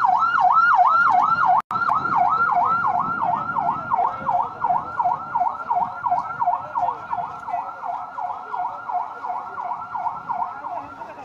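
A wailing siren from a fire service vehicle on its way to a road accident, sweeping steadily up and down in a continuous loud cycle that holds for the whole stretch, with faint street noise underneath.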